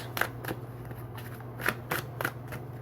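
Tarot cards being shuffled by hand, a few quick riffling bursts with short pauses between, close and fairly quiet with no speech.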